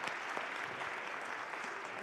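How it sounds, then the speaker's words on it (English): An audience at a plenary session gives warm applause, a continuous wash of many hands clapping at once, steady and even throughout and very quiet, with no talk over it. "A warm applause."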